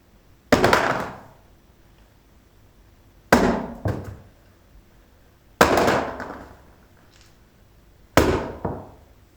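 Objects are dropped onto a moon model to form craters, giving four sharp, close impacts spaced a few seconds apart. Each impact has a short rattling decay and a small secondary knock.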